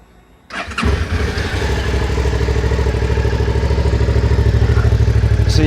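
Suzuki V-Strom 650 motorcycle on its stock exhaust cranks briefly, then starts and settles into a steady, close, fairly subdued idle with an even pulsing beat.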